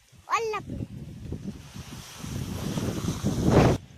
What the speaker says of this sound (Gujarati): પેલા આ પવન કેટલો આવે ગાઈસ, હવે પાછું ઉપાડી આવે.